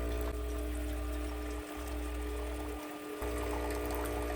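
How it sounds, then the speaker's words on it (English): Clear water flows from a Senseo coffee maker during its first-use startup, a steady low pouring and pumping hum with a constant tonal whine, faint and uninterrupted apart from two brief dips. "Notice there's clear water coming out first,"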